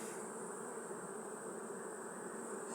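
A dense, steady hum of many honey bees buzzing close up at a hive, continuous and even throughout.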